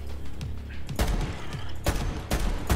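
Sniper rifle shots in Borderlands 3 ring out as sharp, loud cracks, three distinct blasts spaced about a second apart over a low game-ambience bed.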